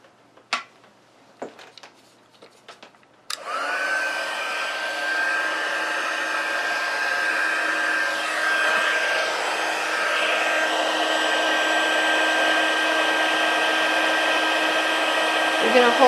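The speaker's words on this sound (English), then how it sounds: "Bring in the heat tool." A few light taps, then a heat tool switches on and blows hot air over embossing powder on a card. It produces a loud, steady whooshing hum with a faint tonal whine that holds to the end.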